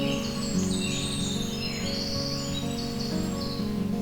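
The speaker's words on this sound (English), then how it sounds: "Their songs are a loud and bubbly cascade of bright and cheery sounding musical phrases" A winter wren, a tiny brown bird, sings a bright, bubbly cascade of high musical trills and chirps that runs without pause over a steady low droning background.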